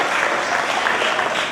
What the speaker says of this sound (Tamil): நம்முடைய பலத்த கரகோஷமாக நன்றியை தெரிவித்துக் கொள்வோம்